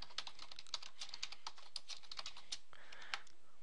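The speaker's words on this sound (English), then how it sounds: "from here I would just type in a name." Rapid typing on a computer keyboard while entering a name, with quick irregular key clicks, close and fairly quiet, alone without talk.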